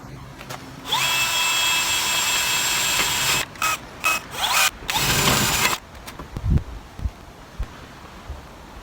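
A power drill bores a pilot hole during an overland truck build on a MAN 8.136 G90, a loud close whine running steadily for a few seconds, then short stop-start bursts and clicks as the bit is worked.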